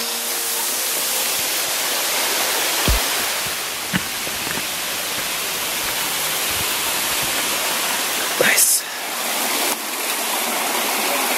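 A waterfall roars in a constant, dense rush of falling water close by at the end of a long hike, with a few brief knocks and scrapes of handling over the steady wash.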